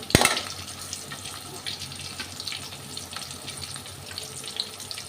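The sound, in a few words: shallots and green chili frying in a pan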